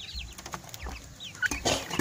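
Young joper chickens, a cross of ayam kampung and Bangkok chicken about 40 to 45 days old, giving short scattered clucks and chirps close by, with brief bursts of rustling noise.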